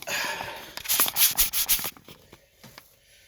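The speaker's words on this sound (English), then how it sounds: "maybe a cleaner, maybe if I wipe off my camera, that'll help" Close rubbing and wiping on a camera lens with a cleaner, a burst of brisk squeaky strokes in the middle, then quieter scattered light touches.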